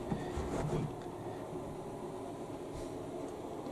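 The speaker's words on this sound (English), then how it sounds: "It's a floor heater." A steady low droning hum of an electric floor heater running, constant and fairly loud, with a slightly stronger rumble at the start.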